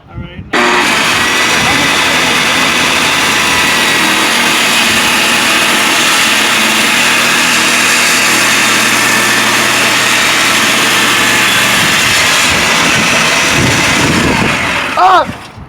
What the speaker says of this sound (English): My homemade table saw.